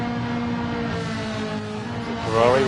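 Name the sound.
Ferrari race car engine at Monza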